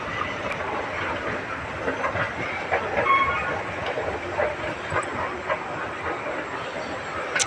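A train rolls past a station platform with a continuous rumbling clatter of wheels and a hissing wash, moderately loud and steady throughout, with no voices.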